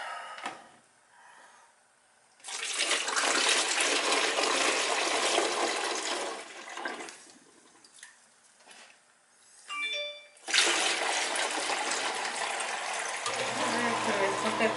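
A condensate pump whirs and water gushes in long noisy surges with brief pauses and a short mechanical beep between them, close by.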